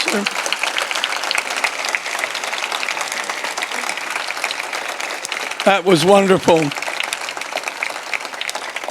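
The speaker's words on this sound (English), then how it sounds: "How about another round, a longer round of applause?" A longer round of applause from a symposium luncheon audience after a fireside chat, a continuous dense wash of clapping filling the room, with a voice speaking briefly over it midway.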